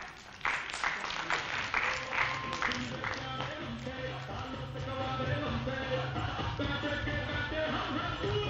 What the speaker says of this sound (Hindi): जोरदार तालियों के साथ स्वागत कीजिए हमारे अगले उम्मीदवार